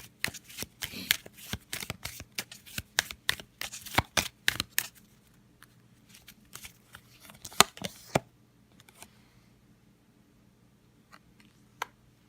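Old-style Lenormand oracle cards being shuffled up close, a run of crisp riffling clicks for several seconds, then scattered softer card taps and slides in a quiet room.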